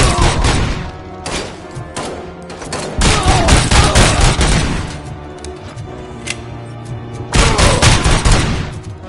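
Dense, loud gunfire from the video game RoboCop: Rogue City, volleys of rapid shots and heavy thuds in sustained bursts with brief lulls, close and continuous.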